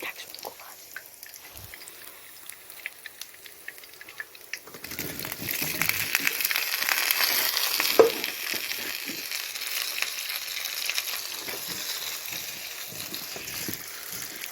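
Potatoes and garlic frying in a pan while being stirred, a soft crackling sizzle that swells partway through and continues steadily with light scrapes.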